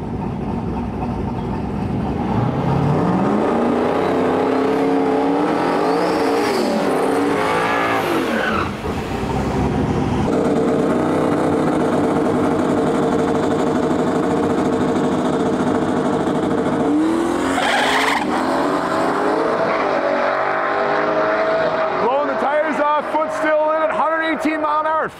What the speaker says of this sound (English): we got Nick Duval with his Volkswagen Jetta, twin turbo LS powered car